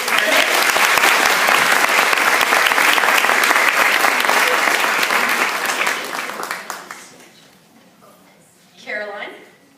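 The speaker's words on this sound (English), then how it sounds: "first let them clap for you" An audience at a senior award night applauds an honoree with loud, dense, sustained clapping that tapers off and fades to near quiet, after which a voice briefly begins speaking.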